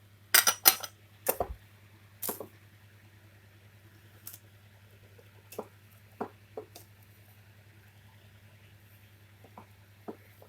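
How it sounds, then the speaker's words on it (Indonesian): A spoon stirs bakwan fritter batter with broth in a bowl, giving sparse, light scrapes and clinks spaced irregularly over a quiet background hum. "kita aduk kayak gini karena tepungnya sudah di bawah"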